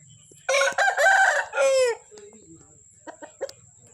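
A fighting rooster crows once, loud and close, in a garden enclosure, followed by a few softer clucks and bird chirps.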